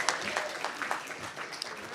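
A banquet audience claps in a brief, quiet smattering of scattered hand claps, distant and faint, over roughly two seconds.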